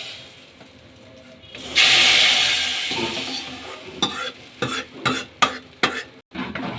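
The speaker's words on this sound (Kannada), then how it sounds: "ಒಗ್ಗರಣೆನ ಇದಕ್ಕೆ ಕೊಟ್ಕೊಳ್ಳೋಣ." Hot oil and chilli powder tempering is poured into yogurt kadhi and bursts into a loud sizzle that slowly fades. Then come a series of sharp stirring clinks and scrapes against the pot.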